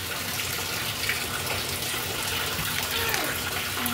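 Tap water running steadily into a container being filled, a continuous close gushing splash that stays even throughout, with no voices over it.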